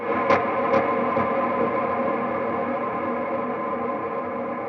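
Electric guitar run through two Marshall amps with a mash effect, a thick sustained distorted chord ringing steadily with a couple of brief picked accents near the start, alone.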